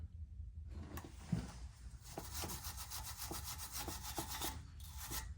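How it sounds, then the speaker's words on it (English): A small wire brush scrubs the sway bar bushing mating surfaces on a 1999-2007 Ford F250 7.3 Powerstroke, making close, quick, rhythmic scraping strokes with no talking. "let me grab a wire brush real quick, and we'll clean these mating surfaces up"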